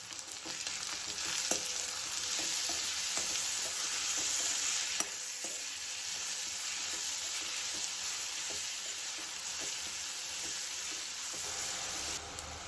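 Onion, crushed garlic and masala fry in a pan with a dense, steady hiss of sizzling oil and occasional soft stirring clicks, close and constant with no voices.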